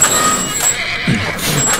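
A horse neighs in The Last of Us game, a short whinny amid brief rustling and clatter, close and fairly loud over a quiet background.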